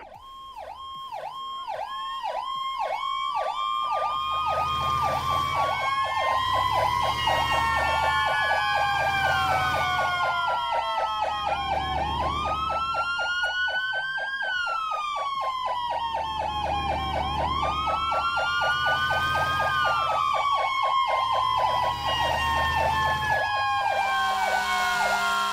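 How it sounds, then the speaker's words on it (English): Several emergency vehicle sirens from a firefighting video game wail and yelp together in layered, overlapping rising and falling sweeps, loud and continuous for the whole stretch, with a low engine rumble underneath and no speech. "You can mod the sirens in this game."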